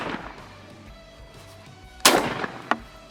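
Shotgun blasts from a Browning A5 or Beretta A400 Xtreme Plus firing 3-inch, 1 1/8 ounce Black Cloud shells outdoors: one sharp loud report near the middle, then a second quicker, fainter crack after it.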